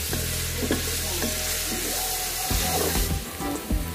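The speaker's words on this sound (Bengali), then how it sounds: "তেলটা হালকা গরম হয়ে আসলে এতে 1 কাপ পরিমাণ পেঁয়াজ দিয়ে দিচ্ছি।" About one cup of onions sizzles and fries in a cup of hot oil in a pan for chicken biryani, a steady crackling hiss close by with occasional stirring clinks and no talking.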